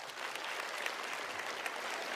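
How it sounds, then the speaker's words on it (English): An audience claps in steady, continuous applause for about two seconds, a dense even patter of many hands at moderate volume without any voices on top. "Big round of applause."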